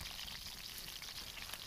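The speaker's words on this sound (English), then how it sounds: "it's not a terrible rain, but you know, we're in the mid-30s and it's kind of a sprinkle" Light rain sprinkle falling outdoors in the mid-30s cold, a faint, steady hiss of fine drops with no distinct patter and no voices.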